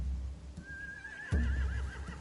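A single horse whinny from The Walking Dead: The Final Season video game rises and wavers for about a second, followed by a low thump, over a steady rumbling background.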